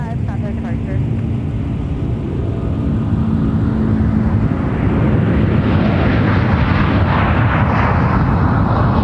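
Airliner taking off at Minneapolis–St. Paul airport, its jet roar building from a lower rumble to a loud, broad, rising rush over several seconds, with air traffic control radio voices in the background early on.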